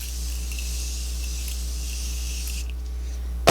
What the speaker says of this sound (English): I'm going to use my Morphe spray because I love the aerosol.